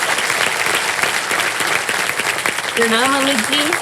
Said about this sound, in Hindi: तालियां बज जाए अर्चना जी के लिए